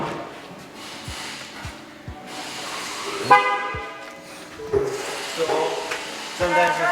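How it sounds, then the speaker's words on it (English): Ford F150 pickup horn honking in short toots as its tire pressure sensors are scanned while new tires are installed, several brief harmonic blasts spaced a few seconds apart over background noise and some talk. "when it picks up a sensor, it honks the horn"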